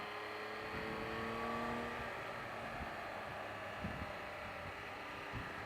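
A 2018 Triumph Tiger 1200 XCA motorcycle runs steadily in third gear through a corner, its engine a constant hum under heavy wind rush heard from the rider's position.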